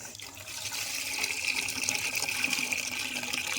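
Water poured into a pot for Maggi noodles over a wood-fired clay stove at night, a steady gushing, splashing flow that holds throughout at a moderate level with no talk.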